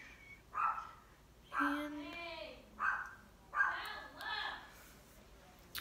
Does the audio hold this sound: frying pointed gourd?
no